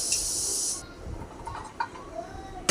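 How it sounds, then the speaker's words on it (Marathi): A pressure cooker cooking mung beans lets out a loud hissing blast of steam that cuts off abruptly, followed by quieter clicks and faint rumbles, with another burst starting at the end. "आपल्याला कुकरला एक चार शिट्ट्या काढून घ्यायचे आहेत तर चार शिट्ट्या काढून घेऊया"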